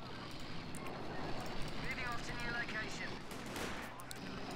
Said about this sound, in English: He went double machine gun.